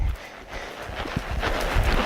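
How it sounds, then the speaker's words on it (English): A three-year-old gelding trotting, with soft repeated hoof thuds and some low rustle in a steady rhythm, moderately close, with no talking over it. "we're going to ask him to trot again"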